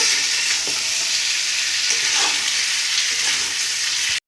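Chicken pieces sauté with spices in a hot pan, making a loud, continuous close sizzle with light stirring scrapes that cuts off abruptly at the end.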